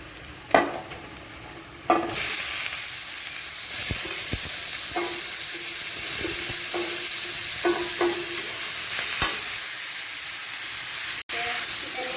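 Chicken goes into a wok of fried onion and spice masala with two sharp knocks, then sizzles loudly and steadily while a spatula scrapes and taps at intervals.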